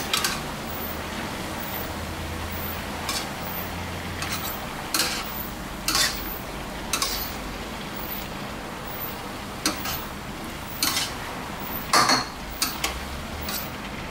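Chicken with chili and bamboo shoots stir-fried in a pan, a steady low sizzle under scattered metallic clinks and scrapes of a utensil against the pan, irregular and close, with no talking.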